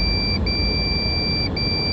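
A body-worn bionic sensor device sounds its lost-signal alarm: a steady high electronic beep broken by two short gaps, heard over a rough rumbling background.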